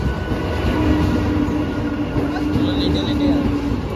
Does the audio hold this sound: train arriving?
yes